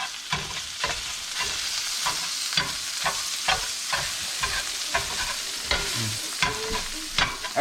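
Jimmy Dean sausage is broken into tiny pieces in a frying pan, with a steady sizzle under repeated scraping and tapping strokes of a utensil in an uneven rhythm.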